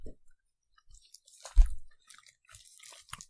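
Someone chewing a sticky, slimy, meat-like food, with a few soft wet mouth sounds and one louder, close squelching bite in the middle of otherwise quiet moments.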